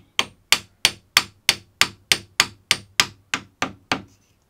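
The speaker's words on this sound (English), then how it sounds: "I then hammer the T-track a few millimeters." Thirteen sharp hammer blows drive a metal T-track into a slot in a router table, landing in a steady, even rhythm, each a loud ringing strike that quickly decays, with no voices.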